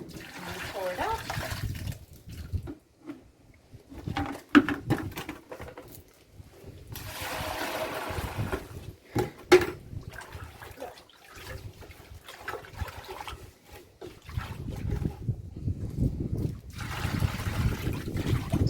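Muddy water sloshes and pours out of a sieve during outdoor wet sieving at a fossil site, coming in repeated splashing, trickling bursts with a steady watery rush and brief pauses over nearly twenty seconds.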